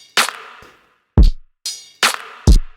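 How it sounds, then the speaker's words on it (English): Two layered clap snare samples drenched in reverb, played in a sharp alternating sequence of five punchy hits, each ringing out with a wide, bright tail, alone without speech. "So now if we play them together, just listen at the clap."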